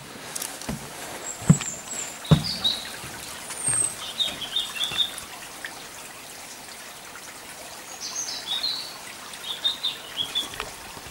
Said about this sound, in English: Plenty of bird song.